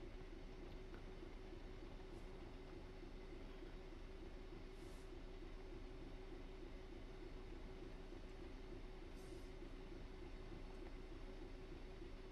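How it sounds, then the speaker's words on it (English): A Class 66 diesel freight train in a train simulator video game, a steady drone with an even engine hum, faint and continuous, with a few brief hissing bursts and no voices. "Just another freight train."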